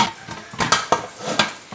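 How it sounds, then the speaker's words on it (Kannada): A metal pressure cooker lid holding chickpeas set to boil is fitted and closed, giving several short metallic clanks and scrapes close by, with no one talking. "ಈಗ ಮುಚ್ಚಳ ಮುಚ್ಚುವ."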